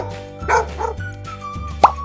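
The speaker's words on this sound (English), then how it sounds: "D for dog" A dog gives a few short barks over a light children's music backing, the last one sharp and prominent.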